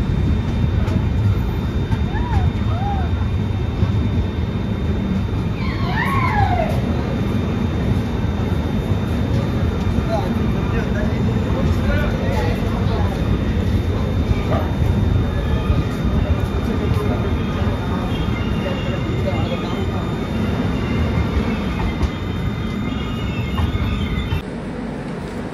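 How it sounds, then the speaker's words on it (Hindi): Devagiri Express train pulling into Aurangabad railway station, a loud continuous rumble of rolling wagons with wheel squeals and clattering over the rails, busy platform voices mixed in throughout. "अपने निर्धारित समय से करीब 25 मिनट की देरी से हमारी जो ट्रेन है वो अब पहुंच चुकी"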